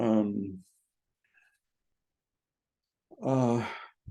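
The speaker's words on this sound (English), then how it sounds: "Sorry about yawning." A lecturer yawns aloud during a physics lecture, a long breathy voiced exhale with a sighing tail, followed after a pause by a second drawn-out yawning groan, both close and clear.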